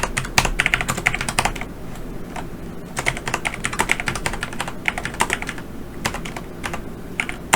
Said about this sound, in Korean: 엔터 치고 방문형 엔터, 온라인형 엔터 쭉 작성할게요.